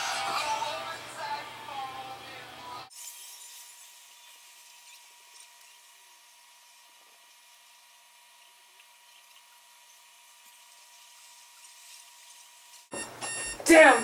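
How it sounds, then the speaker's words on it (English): An alarm clock rings for about ten seconds as a steady, electronic-sounding tone, loud and continuous after a stretch of quieter background at the start. "forgot to turn off the alarm"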